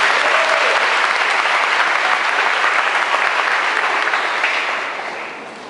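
A church congregation in Porangatu, Goiás, applauds during a Mass before Pentecost, producing a dense, steady wash of clapping from many hands that holds strong and then gradually thins and fades toward the end.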